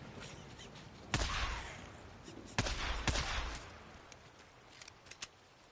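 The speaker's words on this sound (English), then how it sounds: "Man, this pistol does not want to finish this guy." Pistol fire in the Days Gone video game: a few sharp, loud shots spaced unevenly over a few seconds, with fainter pops trailing near the end over a low background rumble.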